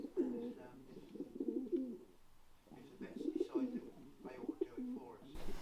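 Pigeons coo in soft, low repeated phrases, two bursts separated by a short pause, fairly quiet and close, with no one talking over them.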